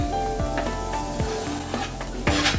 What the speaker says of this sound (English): So I add my garlic to my pan and just let it saute, let it brown